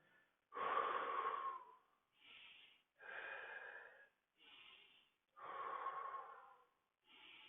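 Slow, deep breaths during a stretching exercise, heard up close as a series of long airy inhales and exhales in a steady rhythm, with brief silences between them.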